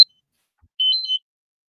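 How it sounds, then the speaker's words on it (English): An electronic alarm gives a short burst of high, clean beeping tones in a quick run, loud and alone after a click and a stretch of silence. "My alarm went off."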